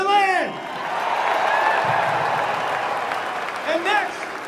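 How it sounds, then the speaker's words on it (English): A crowd applauds and whoops for a marching band at a college football pep rally, the clapping swelling and holding fairly steady, with voices and shouts rising over it near the start and end. "Everybody make a round of applause for the best damn band in the land."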